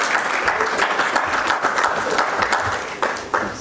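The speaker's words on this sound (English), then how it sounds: "Can we have a big round of applause for the first speaker here today?" Audience at a real estate seminar clapping for the first speaker, steady close applause with distinct individual claps standing out, continuing for a few seconds.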